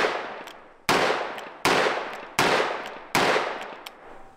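Five .44 Magnum revolver shots fired at a steady pace, each a sharp loud crack with a ringing tail that fades before the next.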